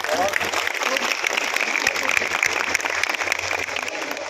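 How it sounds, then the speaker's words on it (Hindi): Applause from an audience of health-mission employees gathered to hear officials, a dense steady wash of clapping that holds for several seconds over a low electrical hum. "एक बार आप सभी के लिए ताली जो यहाँ पर उपस्थित"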